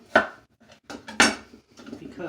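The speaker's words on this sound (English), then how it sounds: "I'm going to cut the carrots" Knife slicing carrots thin on a cutting board in a home kitchen, a few sharp close knocks of the blade hitting the board with quieter scraping taps between them, no talk.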